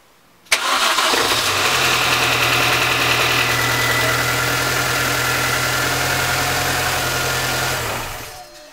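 A car engine, fitted with new spark plugs and ignition cables, cranks and catches abruptly, then settles into a steady, close idle with a low even hum before it cuts off near the end.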